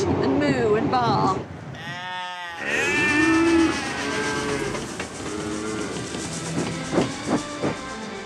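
Crowd of people voicing animal noises, bleating like sheep and mooing like cattle in a mocking chorus, loud and overlapping, with a long wavering moo-like drone in the middle and a clattering train-like background beneath.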